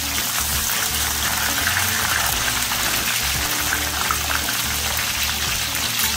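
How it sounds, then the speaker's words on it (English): Jerk pork gravy cooks down in a pot, giving a steady, dense bubbling and watery gush throughout, close and continuous with no talk over it. "Over here in the pot, you cook this down to a gravy to eat with your"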